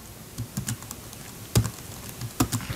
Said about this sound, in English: And you'll just use your keyboard.